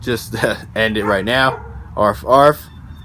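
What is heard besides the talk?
No everyday noises stand out.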